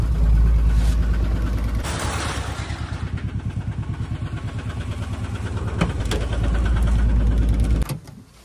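A car's engine runs on a rainy evening while it parks at home, with a close, rhythmic pulsing idle throughout that shuts off near the end.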